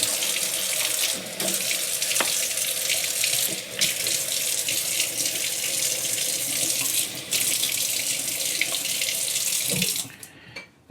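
Tap water pours steadily over a 5000 grit Japanese ceramic whetstone being soaked for knife sharpening, a continuous close splashing rush with brief interruptions, fading out at the end.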